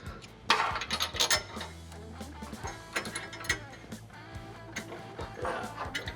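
Ratchet wrench tightening bolts on a gooseneck hitch kit under a Ford F-250 bed, rapid clicking pawl strokes in short bursts with metallic clinks, close and loud, a faint voice in the background.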